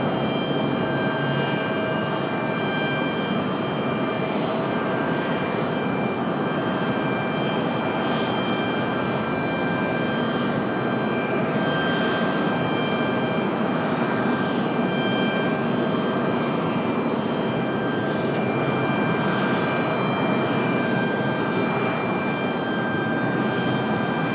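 A Frontier Airlines jet taxis at Raleigh-Durham airport, its engines holding a steady, even whine and rumble for the whole stretch, with no voices.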